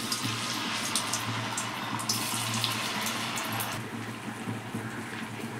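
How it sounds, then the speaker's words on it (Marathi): Sabudana vada dropped into hot oil in a pan, sizzling and bubbling steadily and fairly loudly up close, with a continuous hiss that eases slightly toward the end. "आता आपले तेल गरम झाले, आपण त्यात ही वडी टाकून घेऊया"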